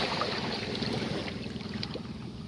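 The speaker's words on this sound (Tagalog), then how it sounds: "itong makina po ay naayos na po kanina" Motorboat engine of a repaired fishing boat throbbing steadily on the water, close and continuous, with wind and water wash mixed in and no talking.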